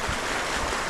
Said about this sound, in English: This is the creek that feeds Lake Mary.